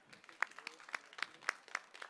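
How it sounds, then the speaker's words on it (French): Thin, scattered handclaps from a small audience at a culinary demonstration welcoming guest chefs, with about eight distinct claps spaced fairly evenly and heard faintly at a distance. "On peut les applaudir."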